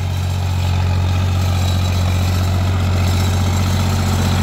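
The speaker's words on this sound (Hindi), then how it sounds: "ये देख सकते हैं भाइयों कितना शानदार चला रखा ट्रैक्टर ने" A John Deere 5050D tractor runs in a field with a heavy-duty Shaktiman rotavator, giving a loud, steady, low diesel engine rumble that holds without a break and carries no talk.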